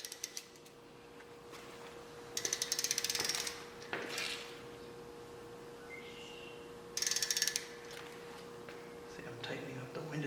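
A ratchet tightens the windage tray bolts during an engine oil pan install, with two bursts of rapid clicking a few seconds apart and lighter mechanical handling sounds in between.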